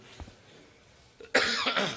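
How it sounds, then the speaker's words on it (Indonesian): A single cough, sharp and fairly close, comes after a quiet stretch of faint room noise during a spoken religious study gathering. "kayak batuk barusan"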